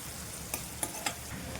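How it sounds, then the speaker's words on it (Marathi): Curry leaves and finely chopped small onion sizzle in hot oil for a tempering, a faint steady fry broken by a few soft stirring clinks, with no talk. "आता आपण ही खमंग फोडणी चांगली अशी परतून घ्यायची आहे तेलामध्ये व्यवस्थित अशी"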